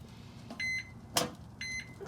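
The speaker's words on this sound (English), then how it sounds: "alarm going off now." A meat thermometer alarm beeps twice in short electronic bursts beside a smoker cooking pulled chicken, with a sharp click between them against a quiet hum.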